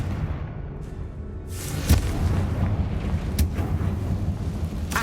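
A Confringo blasting spell goes off in the catacombs of Hogwarts Legacy: a sharp, loud boom with a brief crackling burst, then a rumbling tail and a second fainter crack near the end, with no talk.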